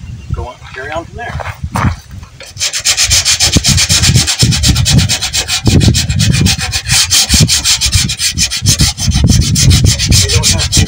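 Sandpaper scrubbing by hand over a car's bodywork, a steady, loud back-and-forth rasp that starts after a brief pause and continues without letup; a voice speaks briefly at the start.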